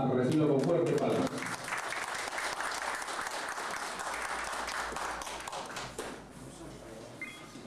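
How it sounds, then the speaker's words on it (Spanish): An audience at a participatory budget workshop in Hualmay applauds to welcome a speaker, steady crowd clapping that swells after a brief opening voice and carries on, slowly thinning toward the end, with faint talk mixed in. "Vamos a recibirlo con fuerte palmas."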